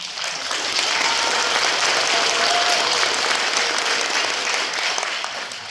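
Audience applause at a panel discussion on long-term care facility leasing, a dense, loud burst of clapping that swells quickly, holds steady and tapers slightly at the end.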